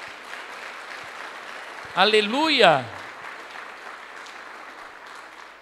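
A church congregation applauds in a steady background wash while a preacher's voice rises loudly over it partway through, the clapping continuing evenly beneath and after the shout.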